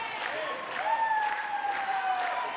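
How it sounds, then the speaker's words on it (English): Spectators applaud in a steady, dense wash at a 2018 AAU Volleyball World Championship match between Sports Performance and Dominican Republic, with a couple of thin high squeaks or whistles drifting over the crowd noise. "the crowd clapping behind her."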